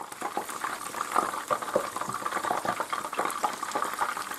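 Rabbit pieces with garlic frying in a pan give a steady crackling sizzle with dense, irregular spits and pops, close up and continuous throughout with no talking.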